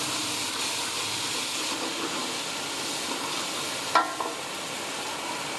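Garlic and ginger fry in oil for nalli nihari, a steady low hiss of sizzling with a brief utensil clink partway through.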